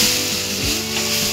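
Milk poured into leftover ghee in a pan over a low flame sizzles with a steady, hissy frying noise, close and continuous, with a soft scrape near the middle and no voices.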